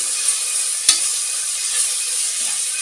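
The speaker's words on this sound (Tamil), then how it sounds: "எண்ணெய் சூடேறின பிறகு 1 ஸ்பூன் இஞ்சி பூண்டு பேஸ்ட்டு ஸ்டவ்வை சிம்மில் வச்சுட்டு கொஞ்சம் மஞ்சள் சேர்த்துக்கலாம். பரட்டி விடலாம்." Ginger garlic paste and turmeric fry in hot oil on a low flame, giving a steady soft hiss, with one sharp tap of a spoon against the pan.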